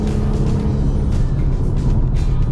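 A 2015 Maserati Ghibli S V6 on a test drive in Malaysia, its automatic gearbox downshifting on its own, gives a steady, fairly loud engine and road drone heard from inside the cabin, with no talking.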